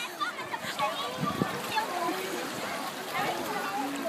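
A child splashes in an indoor swimming pool, ducking his head underwater, with broken watery splashes and churning under children's voices and echoing pool chatter.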